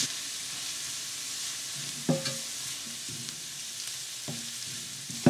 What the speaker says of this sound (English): We're going to saute the onion till it turns golden